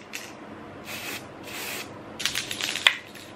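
A sunscreen spray bottle's nozzle releases several short hissing bursts, close and fairly loud, followed by a quicker cluster of sprays with no talking.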